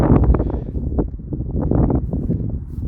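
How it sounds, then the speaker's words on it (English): Heavy wind buffets the microphone in low, rumbling gusts throughout at the Battle of Britain Memorial, close and loud, with no clear talking. "it does get very windy up here"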